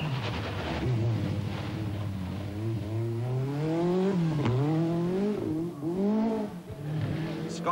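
A rally car on the Shell Oil special stage at Chatsworth House in the 1984 RAC Rally roars past close and loud, its engine rising and falling through gear changes with brief tyre noise.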